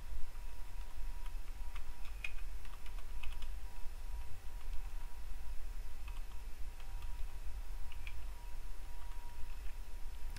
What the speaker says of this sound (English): let's type some titles here because I promised I'm going to type some titles.